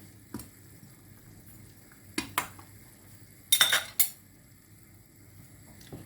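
Potatoes go into a pot where meat is already cooking, with a few sharp clinks and clatters of utensil against metal, quiet between the bursts, close by.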